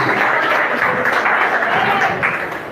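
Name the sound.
congregation applause in church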